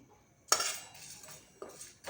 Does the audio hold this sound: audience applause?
no